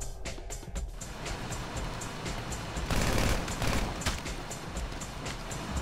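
Rapid micro SMG gunfire in GTA 5, dense crackling bursts mixed with game noise, loudest around the middle, with no talking.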